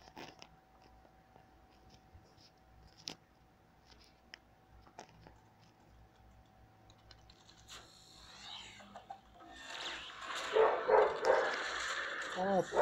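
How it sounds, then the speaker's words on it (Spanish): Quiet room tone with faint clicks gives way to a burst of dog barking near the end, several sharp barks mixed with a person's voice. "Ya le gustó ladrar."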